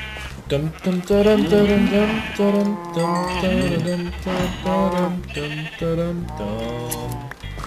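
Sheep in the game Minecraft bleat repeatedly in wavering, nasal calls, mixed in with a voice talking or singing over them throughout.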